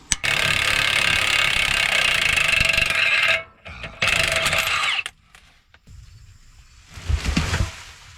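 Wheel lug nuts coming off a tire with a ratchet or power tool, a loud close continuous whirring run followed by shorter bursts, clicks and quieter handling noises.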